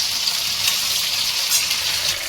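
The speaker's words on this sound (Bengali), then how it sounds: "পকোড়াটা ভাজা হচ্ছে" Pakoras frying in hot oil, a loud, close, steady sizzle with crackling bursts throughout and no talk.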